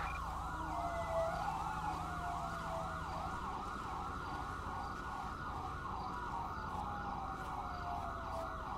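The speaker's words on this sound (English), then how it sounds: "An ambulance is responding code 3." An ambulance siren responding code 3 in GTA V with the LSPDFR mod, a rapid wailing yelp cycling steadily and loudly over a low engine rumble, with no talk.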